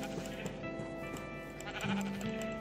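Sheep bleating in a survival roleplay video game, several short wavering bleats with one longer cry near the end, heard over a soft steady ambient background.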